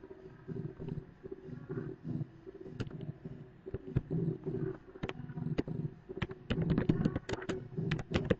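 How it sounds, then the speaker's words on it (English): Computer keyboard typing while code is entered for an Oracle 11g database dictionary program in Java, with irregular quiet key clicks in bursts over a low steady background hum, no talking. "Okay, I will type code here."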